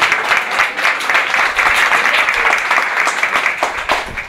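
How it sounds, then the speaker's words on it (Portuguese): A church congregation claps together in steady applause, a dense, loud wash of hand claps with no talking over it. "dar uma linda salva de palmas para o Senhor"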